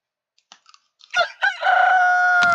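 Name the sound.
rooster crowing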